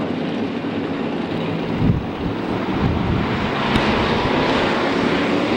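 IMCA hobby stock cars roar around a dirt track in a heat race, engines blending into a loud, continuous broadband rumble with steady wind-like noise and no pauses.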